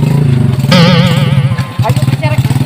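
A motorcycle engine runs loud and close with a throbbing, pulsing idle, and a voice speaks over it.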